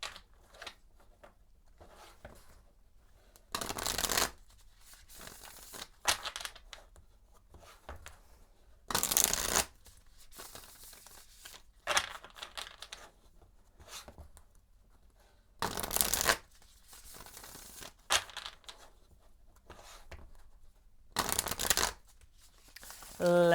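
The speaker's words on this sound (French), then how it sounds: "On va un petit peu brasser mon tarot" Tarot cards shuffled by hand, with repeated bursts of riffling and sliding cards recurring at irregular intervals, close and fairly quiet with softer handling sounds between bursts.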